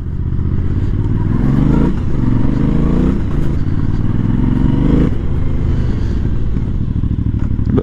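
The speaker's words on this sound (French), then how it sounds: "on va aller faire un petit peu chanter la moto dans un petit tunnel" A motorcycle engine is revved hard inside a small tunnel, with loud, continuous roaring and several rising and falling sweeps that echo off the enclosed walls.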